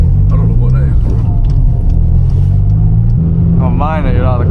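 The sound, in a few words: car engine revving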